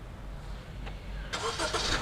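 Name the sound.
car engine starting by remote start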